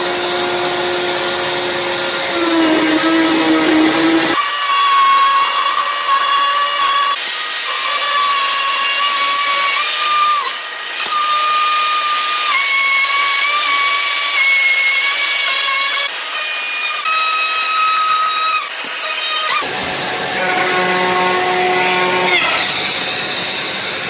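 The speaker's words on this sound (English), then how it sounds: "do a trim around the edge, do like a curved chamfer edge, they call it, around the whole outer edge of the cutting board" Power tool trimming a curved chamfer around the outer edge of a wooden basket-weave cutting board, a loud steady whine running continuously for most of the stretch with slight pitch shifts as it moves, no talking.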